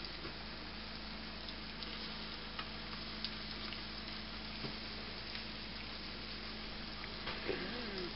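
Walleye fillets frying in a pan, giving a continuous soft sizzle and crackle at an even level with occasional small pops.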